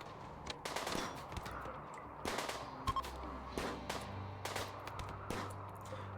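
Bursts of gunfire in the colony game Rimworld, several separate sharp shots and short volleys spread across the moment, moderately distant and fairly faint.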